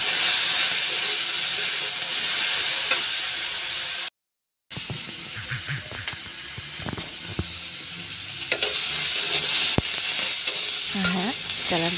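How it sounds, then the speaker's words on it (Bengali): Sizzling and scraping as leafy Malabar spinach greens with turmeric are stirred in a hot pan, a steady fry hiss with irregular utensil scrapes and clinks, broken by a brief silent gap. "তো হলুদটা দিয়ে ভালো করে একটু"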